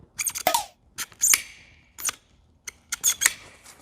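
Short plastic clicks and ratcheting snaps as the safety guard is pressed and rotated on a Bosch GWS17-125 1700W 5-inch corded angle grinder, several separate bursts up close in a quiet room.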